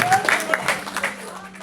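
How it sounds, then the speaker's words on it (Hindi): At a multilingual poets' gathering in Sambalpur, an audience gives a short burst of applause that quickly fades, with a voice speaking over it. "एक बार जोरदार तालियां बजा के बता दीजिए, एक बार जोर तालियां हो जाए।"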